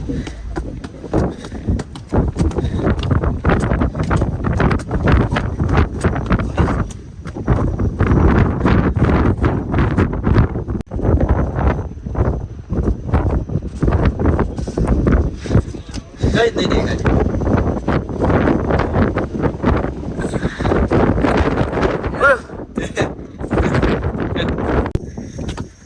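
Strong gusty wind buffets the microphone on Girnar mountain during the monsoon, loud rumbling blasts that rise and fall, with a person speaking briefly over it.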